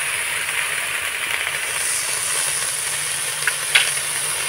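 Cabbage frying in a pan with salt and turmeric, a steady close sizzling hiss that holds level throughout, with a couple of faint clicks near the end.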